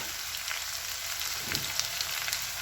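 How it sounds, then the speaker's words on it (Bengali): Potatoes frying lightly with salt and turmeric in a home kitchen, a steady faint sizzle with small crackles and pops, alone without talk. "এই আলুগুলো একটু নুন আর একটু হলুদ দিয়ে ভাজবো হালকা করে।"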